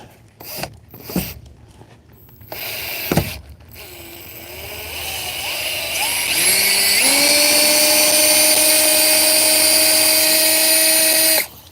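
A cordless power tool backs screws out of a wooden fence, with a few sharp knocks and clicks first, then a steady whining drive that rises in pitch and runs loud and close for several seconds before cutting off.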